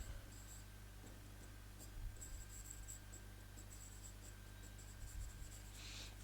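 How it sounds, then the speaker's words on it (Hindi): Pen writing notes by hand during an exam-prep lesson, a faint steady scratching over a constant low hum, with small bursts of stroke noise and no talking. "यहां मैं नोट करके लिख दे रहा हूं"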